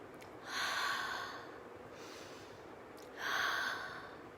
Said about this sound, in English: Then breathe in and breathe out.